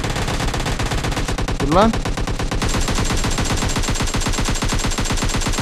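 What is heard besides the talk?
Uzi submachine gun fire in PUBG Mobile Lite video game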